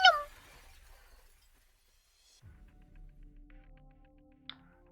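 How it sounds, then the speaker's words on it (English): Glass cracking and shattering as a game sound effect from Arknights: a sharp, bright burst of breaking glass at the start that quickly fades, then silence, followed by a low rumble and a small clink near the end. "why did the glass pick now to crack?"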